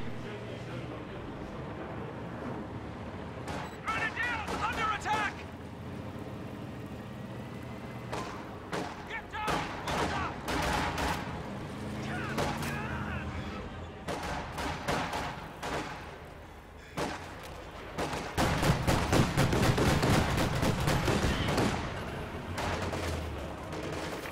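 Gunfire and a grenade striking a flak half-track in a war strategy video game, a dense run of sharp shots, bursts and impacts over a steady rumble of tanks, loudest near the end, with a voice talking underneath.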